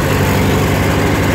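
A 1951 Ford 9N tractor engine idles steadily close by, a low, even chugging throb that holds without a break.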